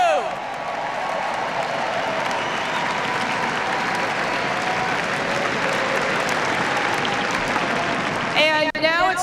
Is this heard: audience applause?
yes